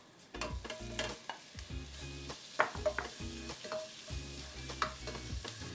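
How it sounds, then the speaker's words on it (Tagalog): Ground pork and onions sauté in a pan with soft sizzling under frequent clacking spatula strokes, recorded close and fairly quietly, with no voices. "habang niluluto yung ground pork"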